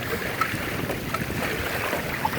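A sailboat moving fast in high wind on the Illinois River gives a continuous rush of wind and water, with gusty buffeting against the microphone throughout and no talking.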